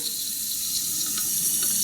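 Water running steadily from a leaking toilet fill valve with a worn rubber gasket, a constant hissing trickle heard alone and fairly loud.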